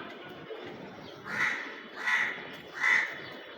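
Crows call out with three loud, harsh caws spaced evenly about a second apart, close by over a soft outdoor background hiss.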